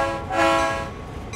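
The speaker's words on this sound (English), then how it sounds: "Why does my bell have to bell every time I horn?" A locomotive horn sounding loud and sustained in Train Sim World 2 on the Horseshoe Curve route, with the bell ringing along with it.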